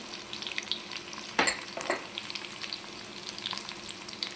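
Tempering seeds and curry leaves frying in oil for Tamil Nadu-style tomato chutney: a close, steady crackling sizzle, with a brief louder spurt of spattering and stirring near the middle and no talk.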